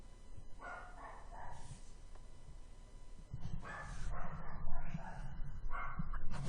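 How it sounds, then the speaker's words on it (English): A dog barks and yips in the background inside a home, several short bursts that grow louder toward the end, heard alone without talk. "You'll hear my dog barking in the back."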